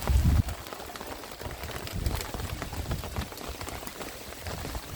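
Rain patters steadily on a surface at an outdoor barbecue site in Hong Kong, with a denser burst of drops at the start and scattered heavier splats throughout.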